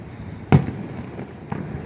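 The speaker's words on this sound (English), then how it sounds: "I could still see the fireworks" Independence Day fireworks near the Long Beach Convention Center, one distant booming burst followed by a fainter second pop and a soft rumbling tail.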